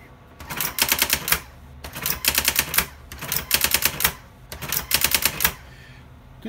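Brother GX-6750 electronic typewriter running its correction function, four rapid bursts of mechanical clattering strikes separated by short pauses, close and fairly quiet.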